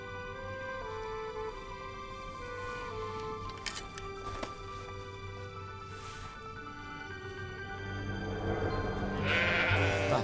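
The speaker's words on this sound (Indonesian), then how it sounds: "Panong ita mesa domba ang tandi na tisangka ho dihangkang" Sheep bleat repeatedly in a film scene, with wavering, nasal calls one after another over a steady low background hum, growing slightly louder and busier toward the end.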